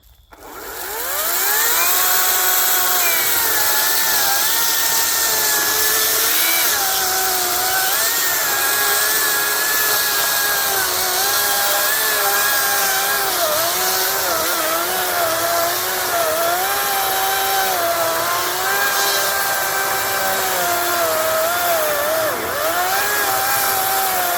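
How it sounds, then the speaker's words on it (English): A battery-powered Ryobi 40V chainsaw with a new chain cuts through a log of about 14 inches, whining loudly and continuously as it strains and bogs slightly under load for over twenty seconds. "This is right around 14 inches, so it's going to max out this chainsaw so you can see how this works."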